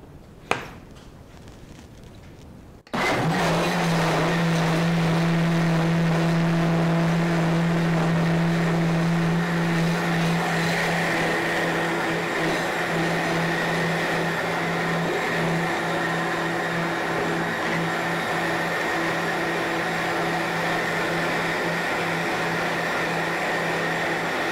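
Blender grinding sprouted hemp seeds with water, starting abruptly after a quiet moment and then running as a loud, steady whirring drone with a constant motor pitch.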